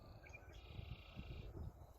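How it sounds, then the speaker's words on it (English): Red-winged blackbird song from a distant bird, a faint buzzy trill held for about a second over a low background rumble, with no talking. "There he is, the red-winged blackbird."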